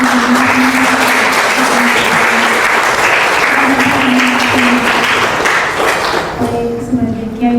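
Steady applause from a seated audience at a Hari Santri commemoration talk fills the room for several seconds, then tapers off near the end as a few scattered claps linger.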